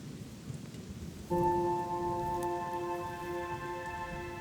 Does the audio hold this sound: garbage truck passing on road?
no